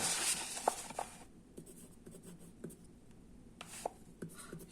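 Marker strokes tap and scrape on a board during a math lesson, a few sharp quick marks between quieter gaps, close and moderately loud.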